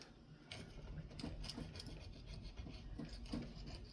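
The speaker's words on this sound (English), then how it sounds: "I might have to use my small scraping tool here." A small scraping tool works at old Loctite 518 gasket material with quiet, repeated rasping strokes in a steady rhythm, close by and faint.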